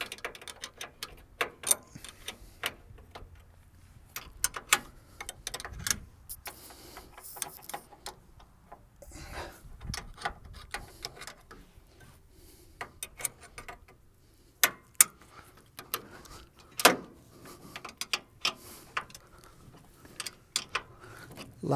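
Close, quiet ratchet clicks come in short irregular runs as a bolt is worked out of a caster on a Vulcan commercial fryer, with scattered metallic taps and little talk.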